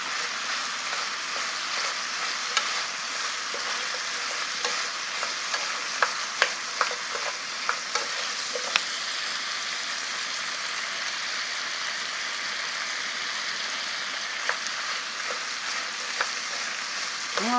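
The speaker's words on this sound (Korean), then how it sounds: "이제 기름에 이렇게 볶았잖아요" Garlic and green onion stir-fry in plenty of oil for a beef stew, a steady close sizzle with occasional sharp crackles and faint utensil clicks, no talk.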